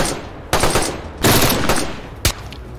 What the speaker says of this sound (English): They're probably shooting from the tree line.